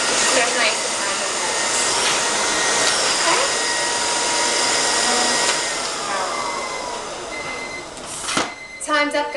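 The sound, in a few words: Miele S4 Neptune vacuum cleaner with Compact C1 Turbo Team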